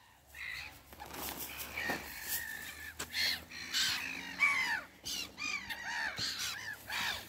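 Gulls calling over Lake Naroch: a dense series of repeated harsh calls from several birds, some close and loud, others farther off, overlapping throughout with no talking.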